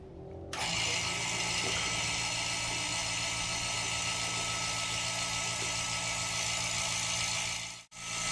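Vacuum pump running steadily on a car air-conditioning system during evacuation, a loud continuous close-up motor drone with a brief dropout near the end.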